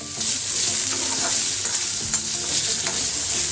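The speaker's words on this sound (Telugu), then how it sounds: "ఇప్పుడు ఇదే ఆయిల్లో అల్లం వేయించుకుంటామండి." Ginger frying in hot oil gives a steady, close sizzle with stirring scrapes throughout, loud and with no talking.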